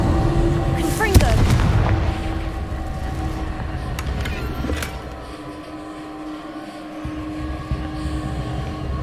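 The Confringo fire spell in Hogwarts Legacy lands with a loud, close blast near the start and a rumbling burst after it, followed by a lingering crackle and ambient hum. Speech is heard faintly.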